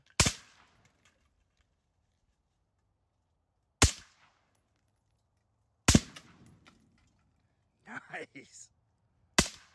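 Gunshots fired at random household objects, four sharp loud reports spaced a couple of seconds apart with quiet between, one followed by a brief spoken remark.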